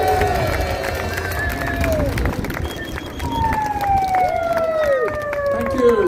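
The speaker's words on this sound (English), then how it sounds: "give a huge round of applause to Peter Ford" A crowd at a street rally in London applauds and cheers a speaker with continuous loud noise. Sirens wail through it and overlap as they rise and fall.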